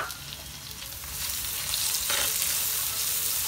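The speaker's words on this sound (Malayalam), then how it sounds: "ഇനി നമുക്കിതിലേക്ക് ഒരു തക്കാളി മുറിച്ച് വെച്ചതാണ്, അത് ആഡ് ചെയ്യാം." Chopped tomato hits hot oil in a pan for chicken curry with ash gourd, setting off a steady close sizzle that swells as the frying continues, with faint stirring; no talk.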